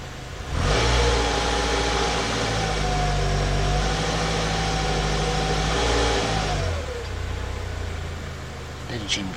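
A 2007 Acura TSX with the 2.4 engine, suffering a check-engine fault and power loss, revs under throttle for several seconds: a steady mid-range engine drone with a rising whine, then it settles back toward idle, close and fairly loud.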